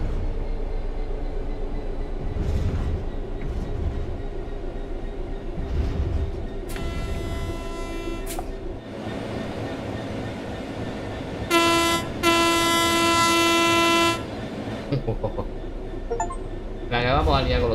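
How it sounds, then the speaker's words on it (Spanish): A simulated train coasting on level ground in Train Sim World 3 gives a low rolling rumble, broken by two loud horn blasts, one short and one longer, with people talking over parts of it. "The train will then coast on level ground, and the train will only slow down very gradually."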